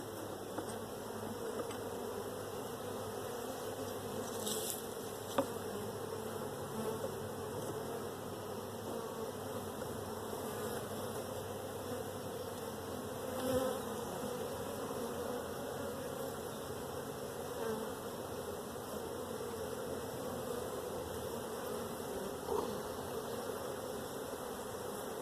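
Honey bees drone steadily in an opened hive during an inspection, a continuous close buzzing hum that fills the whole stretch with slight swells and a few faint knocks of handling.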